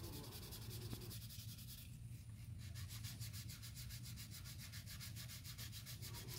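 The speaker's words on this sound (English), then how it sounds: "It's just me sanding and feeling, sanding and feeling." Sandpaper rubs steadily back and forth across an RC car hardbody shell of a Blitzer Beetle during scratch repair, a close, quiet, even rasping with regular strokes and no talking.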